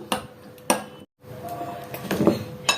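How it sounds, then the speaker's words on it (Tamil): Two eggs are beaten in a bowl while making a Tamil fish curry, Meen Kuzhambu: sharp clinks of a utensil against the bowl, a brief pause, then quicker tapping and scraping up close. "ரெண்டு முட்டை அடித்து வச்சுருக்கேன், சேர்த்துக்கிறேன். இதை பீட் பண்ணிப்போம்."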